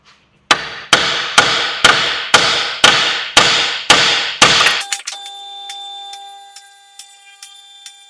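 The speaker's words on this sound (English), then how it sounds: "give that a whack with a hammer and it should come out" Nine loud, evenly spaced hammer blows ring out against a VW Transporter strut, each a sharp metallic clang with a decaying ring, followed by a lingering metallic resonance.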